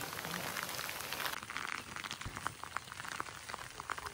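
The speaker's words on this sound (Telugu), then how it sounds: "వర్షం బాగా పడుతుంది." Heavy rain falling on a farm with mango and coconut plantation, a steady hiss of drops with scattered louder taps, moderately loud.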